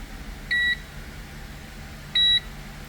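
A car dashboard chimes right after the ignition is switched on: two short, clear electronic beeps about a second and a half apart over quiet background hiss.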